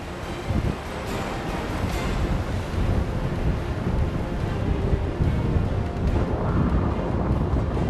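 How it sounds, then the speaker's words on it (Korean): Strong wind roars and ocean surf crashes continuously along the Ulleungdo coast during a gale warning, with dense, steady broadband noise and wind buffeting the microphone, and no voices. "배가 뜰 수 없을 정도로 부는 바람."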